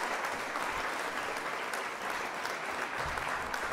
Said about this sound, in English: They give that a round of applause.